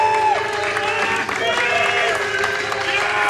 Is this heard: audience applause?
yes